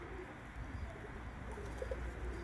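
Pigeons in a loft coo softly in low repeated murmurs against a faint steady background hum, quiet and close, with no talking.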